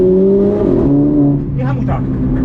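A Renault Clio RS Cup race car on the Łódź track, its engine loud and close as it revs and accelerates, pitch climbing, then easing and dropping through a gear, while a coach talks over it.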